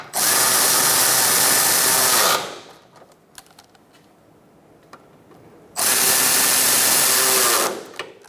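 A power tool tightens radiator bolts on a 2014-2019 Kia Soul 1.6L L4 in two loud, close whirring bursts of about two seconds each, separated by a quiet pause with light clicks and handling sounds.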